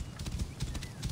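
Horse hooves clip-clopping in Assassin's Creed Origins, a short quick run of hoofbeats, fairly quiet, with a faint whinny.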